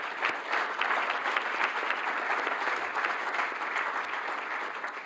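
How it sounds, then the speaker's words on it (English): An audience at a science symposium applauds the panelists after a session, a steady, dense wash of many hands clapping at moderate distance, sustained evenly throughout with no voices rising above it. "and a big applause for the panelists."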